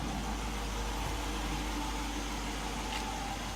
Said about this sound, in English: that's my Durango RT with the mid mufflers inside of it